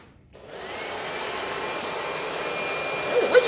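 A hooded hair dryer switches on after a short silence and settles into a steady, loud whooshing hum with airy hiss, running continuously up close.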